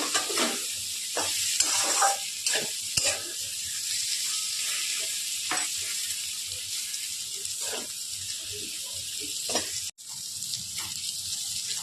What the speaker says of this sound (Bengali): এবার আমি ভেজে রাখা পটল আর আলুগুলো দিয়ে দিচ্ছি। আবার একটুখানি ভালো করে মিশিয়ে নেব।